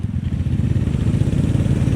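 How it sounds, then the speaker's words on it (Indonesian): A motorcycle engine idles steadily and close by, with an even low throbbing pulse and a faint mechanical clatter, no voices over it. "Ini nggak ada getar-getarnya loh di motor."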